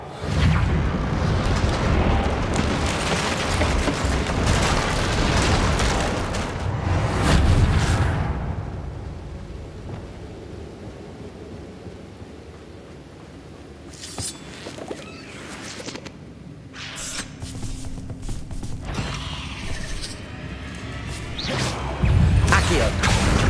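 A Reparo spell mending a broken bridge in Hogwarts Legacy, with rumbling, crumbling rubble and magical whooshes, loud at first and then fading to quieter scattered clatters and swishes before swelling again.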